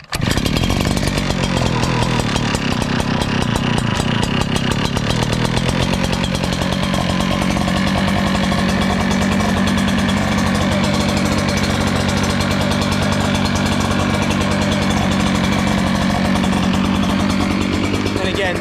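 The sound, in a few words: Echo PB9010H backpack blower engine starting and running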